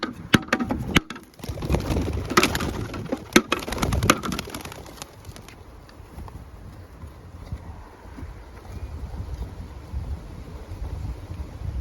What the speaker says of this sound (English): and then we're gonna release the birds